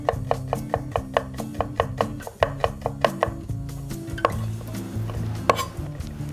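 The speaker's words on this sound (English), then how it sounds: "all you have to do is just slice up your garlic" Steady knife chops slicing garlic on a cutting board, a quick regular rhythm of sharp taps that loosens and slows toward the end, close and fairly loud.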